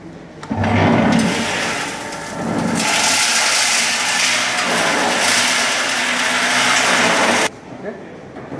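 A laboratory concrete mixing machine tumbling coarse and fine aggregate, giving a loud, steady rumbling churn that runs for several seconds before cutting off abruptly, with a brief clatter at the start.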